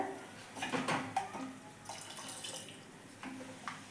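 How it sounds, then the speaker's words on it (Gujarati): Water splashes and trickles into a pot of sambar in short bursts, close by, with soft clatter and no talking. "થોડું પાણી એડ કરી લેશું આપણે એની અંદર"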